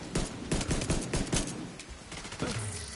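Rapid bursts of automatic gunfire in The Division 2 on PlayStation 5 rattle out in quick clusters of close, loud shots, thinning toward the end with a few scattered reports.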